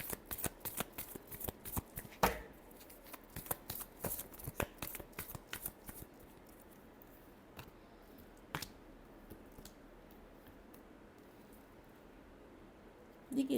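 Tarot cards being shuffled by hand close up, with dense riffling bursts and crisp slaps for the first several seconds, then sparser single flicks and quieter handling toward the end.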